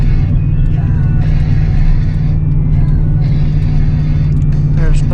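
A 24-year-old 8.1-litre gas V8 in a truck towing 18,000 pounds uphill in first gear, droning as a steady, loud, deep engine rumble with a constant low hum throughout, with speech over it.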